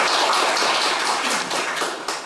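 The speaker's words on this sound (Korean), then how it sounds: "이옥 교수님 박수 부탁합니다." Audience applause for a professor being introduced at a Korean expert forum, a steady, dense wash of many hands clapping close by, fading slightly toward the end.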